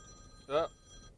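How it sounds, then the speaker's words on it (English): A single short telephone ring, brief and moderately loud, stands out against a quiet steady background. "there's a phone"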